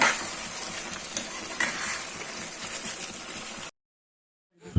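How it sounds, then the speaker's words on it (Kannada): Chicken pepper masala with sambar powder stirred in a pan, a steady sizzle with scraping and stirring for a few seconds before it cuts to silence. "ಲಾಸ್ಟಿಗೆ ನಾವು ಹಾಕಿದ ಸಾಂಬಾರ್ ಹುಡಿಯನ್ನು ತಿರುಗಿಸಿ"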